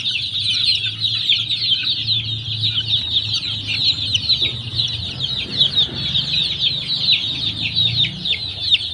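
21-day-old chicks cluck and chatter continuously, close and lively, with a dense high-pitched flock murmur and some low background hum.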